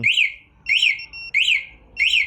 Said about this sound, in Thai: รีโมทสั่นเตือน เนาะ กวนอีกมันก็จะสั่นอีก ดังอีก